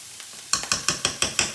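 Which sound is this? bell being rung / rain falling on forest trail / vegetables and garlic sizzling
vegetables and garlic sizzling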